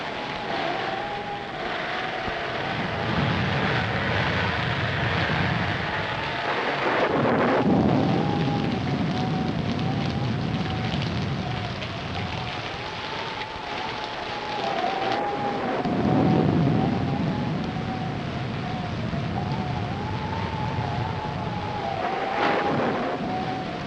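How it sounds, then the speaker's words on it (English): Thunder rolls in deep, swelling rumbles twice during a stormy night scene in a 1943 mystery film, over a continuous wash of wind and rain and beneath a wavering music score. "we'd better get out of here before this storm gets any worse."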